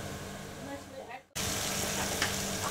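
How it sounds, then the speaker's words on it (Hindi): Onions frying in a pan over a fast flame, a steady bright sizzle that cuts in loudly after a brief quieter moment, continuing with crackling throughout. "फास्ट फ्लेम पे फ्राई कर लेंगे प्याज को सॉफ्ट होने तक"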